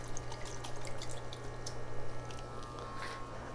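Roots of a potted plant being washed in water, with close sloshing, dripping and gentle squishing that runs continuously at moderate volume, with no voices.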